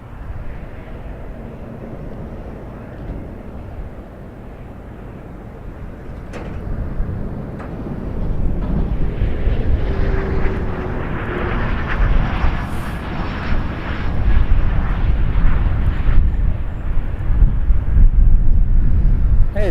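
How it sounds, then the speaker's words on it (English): Jazz RJ900 regional airliner on landing approach at Toronto Pearson, a steady jet roar that builds from moderate to loud as it nears and passes close overhead, with no talk. "We got RJ900 Jazz 776 coming in, just about to cross Airport Road."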